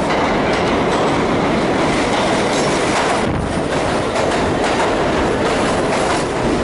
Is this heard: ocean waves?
no